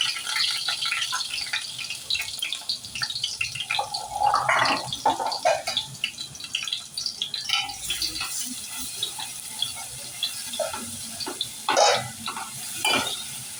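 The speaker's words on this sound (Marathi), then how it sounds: "तेल जरा गरम होऊ दे आपलं. आता 1 चमचा भरून आपण घालूया आलं लसूण." Crushed ginger garlic paste hitting hot oil in a pan, giving a light crackling sizzle with scraping and stirring clatter, while a voice talks intermittently over the cooking.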